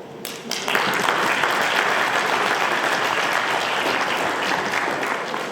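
A debate competition audience applauds the finalists, with dense, sustained clapping starting abruptly after a brief moment and continuing steadily, loud and close, with no talking.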